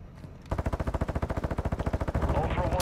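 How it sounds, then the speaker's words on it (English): Rapid automatic gunfire from an enemy player in Call of Duty DMZ, a long close burst of about two dozen evenly spaced loud shots, ending in a denser rattle and clatter. "You are taking effective fire"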